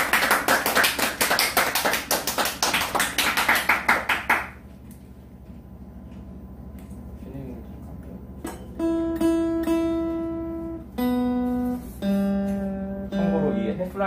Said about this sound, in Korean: 저희 멤버분들한테 다시 한번 큰 박수 부탁드립니다